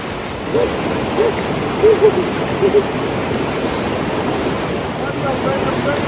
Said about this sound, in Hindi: नीचे ना ये ग्लेशियर का पानी है जो ऊपर बर्फ का पिघल के आ रहा है